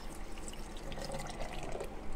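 Water trickles and splashes into a blender jar, a soft uneven pour with small drips that grows slightly louder toward the end, fairly close and with no voices.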